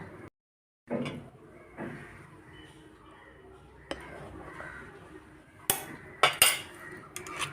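A spoon stirs red chilli chutney with coconut oil in a dish, giving soft scrapes and clinks at a fairly quiet level, with a few sharper metallic knocks toward the end.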